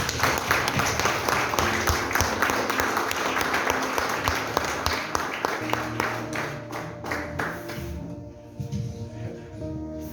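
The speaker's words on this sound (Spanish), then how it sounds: "Un aplauso al Señor." Church congregation applauding during a service, a full burst of many hands clapping that thins into scattered claps and fades out toward the end.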